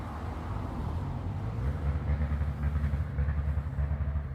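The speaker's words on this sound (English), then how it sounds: "Can you hear the motorbikes" Motorbikes ride in nearby woods, a low, steady engine drone with a gently pulsing rumble, heard at a distance and fairly faint.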